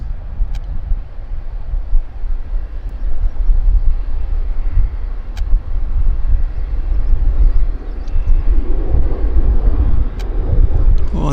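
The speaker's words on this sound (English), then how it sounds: "Well, there goes Air North on the other side, guys." An Air North airplane moves along the far side of Vancouver Airport (YVR), a distant, steady engine rumble that holds low and even throughout, with no talking.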